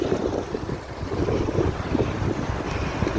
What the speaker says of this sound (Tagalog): masyado malakas ang hangin baka ibagsak tayo nito